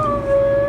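A dog gives a single sustained, wavering howl, loud and close, within a ghost story.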